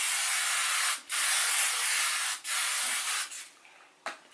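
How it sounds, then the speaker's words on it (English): Extra-strong-hold hairspray hisses from an aerosol can onto slicked-back hair in three long close bursts separated by short pauses, then a few shorter puffs trail off. "if you're concerned about the bits dropping down over time, obviously you would then hairspray your hair"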